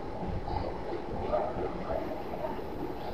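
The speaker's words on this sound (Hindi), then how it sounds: "मशीन ऑन कर ली हमने" A CB28 hydraulic pump test machine runs with a steady, dense mechanical hum and rumble, continuous and fairly loud throughout with no pauses.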